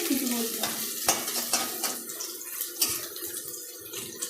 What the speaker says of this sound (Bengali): পেঁয়াজটা লাল লাল করে একটু ভাজা হবে